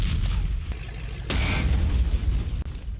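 Gunfire in a World War II tank battle in the game Combat Mission Final Blitzkrieg, with heavy booming shots and sharp cracks ringing out in the distance over a low, continuous battle rumble.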